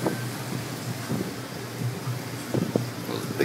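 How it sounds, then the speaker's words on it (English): Wind blowing through a yard with big trees after a hurricane, a steady low rumbling rush with brief stronger gusts near the end. "The wind blowing, man."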